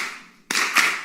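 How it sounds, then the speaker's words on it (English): Audience members clap a short melodic rhythm together in a hall, a quiet pause giving way to a sudden burst of sharp, dense handclaps with a second accented cluster, no voices. "I want you to clap the rhythm that you just sang, but don't sing it"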